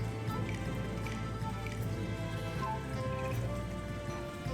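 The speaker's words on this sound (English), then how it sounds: "Oh, there we go. It's raining." Rain falling in the video game Sakuna: Of Rice and Ruin, a soft, even patter of drops with occasional louder splashes over a steady low hum of game music.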